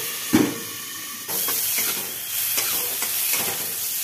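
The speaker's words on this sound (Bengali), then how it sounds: "ফুলকপিটা ভাজা হয়ে গেছে," Cauliflower fries in a covered pan with a little water, making a loud, steady hiss and sizzle that swells abruptly partway through and then holds, along with a few faint knocks. There is no speech.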